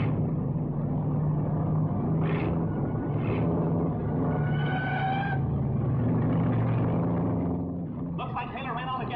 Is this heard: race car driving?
yes